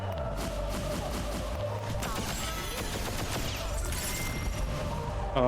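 Rapid bursts of gunfire in the video game Ascend to Zero crackle continuously, dense and loud, with some heavier blasts mixed in.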